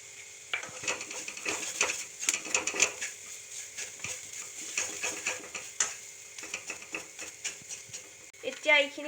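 Ground mung dal frying and being stirred in a pan with cumin powder: a soft sizzle under repeated scraping and clinking spoon strokes against the pan, fairly quiet and close, with a voice talking over it.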